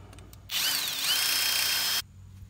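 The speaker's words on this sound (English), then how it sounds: "Or you could just drill it out." A power drill bores out a sheared wheel bearing bolt on a car hub, one steady high whine lasting about a second and a half with a slight pitch wobble, close and loud, starting and stopping abruptly.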